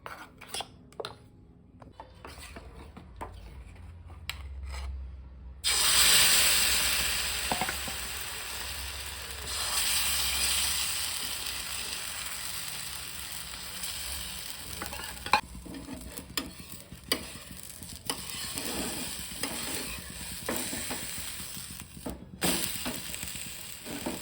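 Moong and spinach dosa roasting on a pan, a continuous sizzle that swells and fades, with scattered clicks and scraping from utensils against the pan and no talking.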